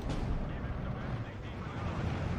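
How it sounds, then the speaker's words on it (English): Gunfire from an M15 anti-aircraft half-track in the Steel Division 2 World War II strategy game, a rumbling, booming volley of shots that rolls on densely for a couple of seconds with no pause. "the M15 is shooting at us"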